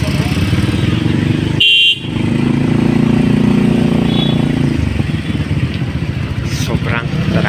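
Congested traffic on a busy Tagaytay road, with motorcycles weaving through steady engine rumble and loud, close car horns blaring, plus scattered clatter throughout.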